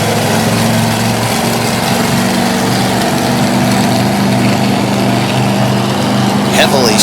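The Bigfoot monster truck, on heavy cleated Firestone tires, idles with a loud, steady low rumble after sliding to a stop in front of the grandstands at a dirt-track show, while an announcer talks over it.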